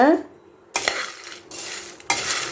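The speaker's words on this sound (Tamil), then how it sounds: "அரை கிலோ கிரவுண்ட் நட் அதாவது நிலக்கடலையை நல்லா சூடு காட்டி வறுத்துக்கோங்க" Peanuts dry-roasting in a pan make loud dry rattling and scraping bursts in three stirring strokes, with short quiet gaps between them.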